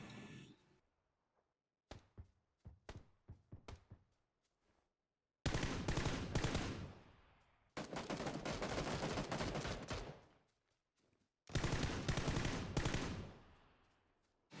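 Full-auto gunfire in PlayerUnknown's Battlegrounds rings out as loud, close bursts, first a few quick short volleys, then three longer sustained bursts separated by silence.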